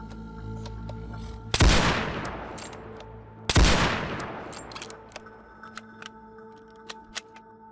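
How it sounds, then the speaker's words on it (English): Sniper rifle firing in a video game under development: two loud single shots a couple of seconds apart, each with a long echoing decay, over a faint steady hum. "We also have our first sniper rifle in, which again needs a lot of animation work."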